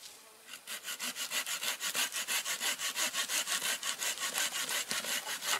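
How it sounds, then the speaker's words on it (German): Steady, rapid back-and-forth rasping of a Bahco Laplander folding saw biting through dry wood, strokes evenly spaced and close, with no talking. "Wie ihr seht, die Säge geht durch trockenes Holz wie Butter."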